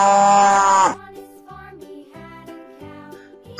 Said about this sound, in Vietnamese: Con bò.